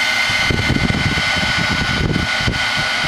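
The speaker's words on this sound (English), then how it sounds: "and then I'm going to take my heat gun." A heat gun blowing steadily while heating a mixed-media craft piece from underneath, a loud continuous fan-like whoosh with a rumbling low tone, close and unbroken throughout.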